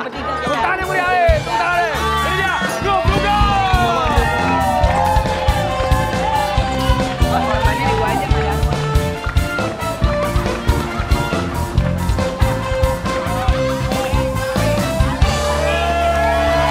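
Studio audience on an Indonesian comedy talk show claps and cheers loudly and continuously, dense applause with whoops and shouting over music, filling the whole stretch.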